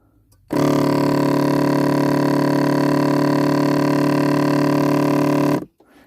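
Steady pump-like droning hum from behind the glove box of a Volkswagen Touran runs loud and unbroken for about five seconds, then cuts off, with no talking over it.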